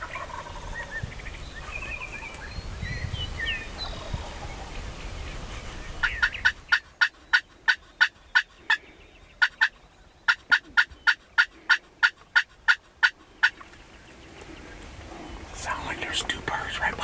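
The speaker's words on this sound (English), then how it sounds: "Here comes a gobbler now." A male wild turkey (gobbler) gobbles repeatedly in quick rhythmic bursts, loud and fairly close, after a stretch of quiet outdoor murmuring and rustling.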